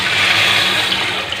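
Water pours steadily and loudly into a cooking pan while preparing a milkfish (bangus) dish, a continuous close rushing splash filling the short moment on its own.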